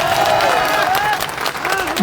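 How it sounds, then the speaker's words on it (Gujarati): A crowd at a political rally claps steadily, dense applause filling the space, while a voice carries over it. "હવે જોરદાર તાળીઓથી બે ભાઈનું સન્માન થવું જોઈએ"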